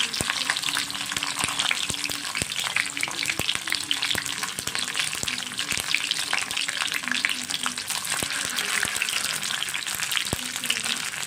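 Sardines frying in oil with curry leaves give a loud, dense, continuous crackling sizzle close up, dotted with sharp pops and occasional clicks of a stirring utensil throughout.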